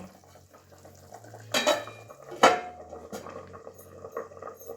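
Metal lid set down on a pot of simmering fish curry with drumsticks, potatoes and lentil dumplings, giving two clear clanks about a second apart, close by, with faint kitchen clatter around them and no talking.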